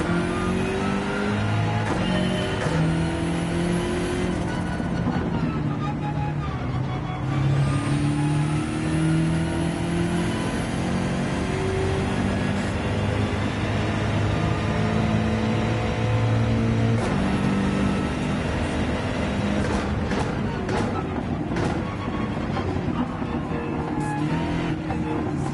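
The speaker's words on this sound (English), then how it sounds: "this BMW drives very different than the Porsche 911" A BMW race car in Gran Turismo 7 revs hard and shifts through gears around a track, engine pitch climbing and dropping repeatedly, loud and continuous with tyre and passing sounds mixed in.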